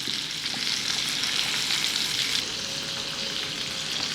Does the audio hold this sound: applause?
no